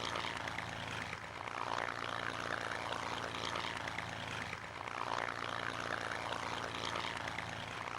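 A P-51 Mustang propeller fighter flies past with a loud, continuous aircraft engine drone that swells and dips slightly over several seconds, heard without talk.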